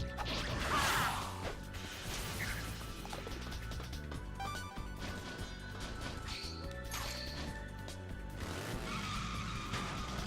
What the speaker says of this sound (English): So again, we're doing this motorcycle minigame